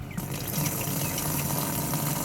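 Water gushes steadily from a tap at a neighbourhood water plant inside a mosque in Karachi, filling a container with a loud, continuous close rush that has no talk over it.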